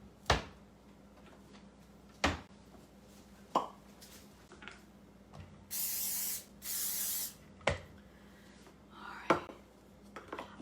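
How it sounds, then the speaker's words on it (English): Two short, hissing bursts of cooking spray from a can in a kitchen, each lasting about a second, with scattered clinks and knocks of dishes and cabinets before and after. "let me get my cooking spray."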